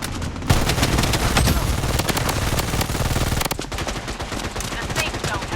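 Sustained automatic gunfire in the shooter game Blood Strike, loud and close, a steady rattling stream of shots that barely lets up.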